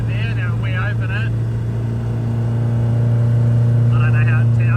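A 1000HP Honda K24-powered rear-wheel-drive car runs with its exhaust bypass valve open, giving a loud, steady, deep droning note throughout, with voices talking briefly over it near the start and end.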